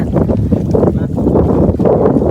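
Wind buffets the microphone beside a rural lake in a steady, heavy low rumble with gusty surges, continuous throughout and with no voices.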